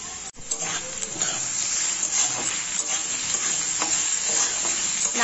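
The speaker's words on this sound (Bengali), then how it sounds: "নারকেলটা একটু আলুর সাথে ভেজে নেব।" Grated coconut fries with potatoes in a pan, a loud steady sizzle with stirring scrapes running continuously from start to finish.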